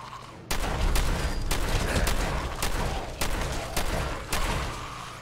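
Rifle gunfire in Fallout 4, a series of loud, sharp shots fired at irregular intervals, about eight cracks with short echoing tails over a steady background.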